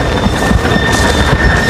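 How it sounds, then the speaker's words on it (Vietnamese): The tail of a 2 m bird-decoy flute kite flaps hard in the wind, a loud, rough fluttering close by, while the kite's flutes hold faint steady whistling tones underneath. "nghe tiếng cái đuôi nó phạch phạch phạch phạch phạch ghê"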